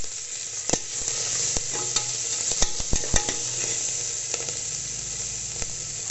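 Ginger garlic paste and green chillies sauté in a pan for a black gram pulao, with a continuous close sizzle broken by irregular spatula scrapes and taps.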